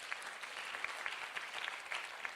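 Applause from an audience fills the whole moment as a steady, moderately faint patter of clapping hands, heard at a distance with no voices on top.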